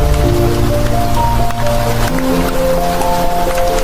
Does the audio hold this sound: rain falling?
yes